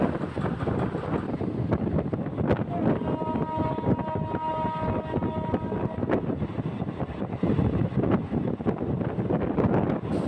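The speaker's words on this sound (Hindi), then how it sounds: "ट्रेन ने भी अपनी गति बढ़ा दी है" A train picks up speed along a rail line, giving a continuous rumbling clatter mixed with wind buffeting, while a sustained horn-like tone rings out briefly in the middle.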